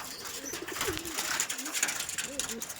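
Several male tournament-quality Madras pigeons coo in soft, repeated low phrases close by, over a steady background hiss with faint speech at times.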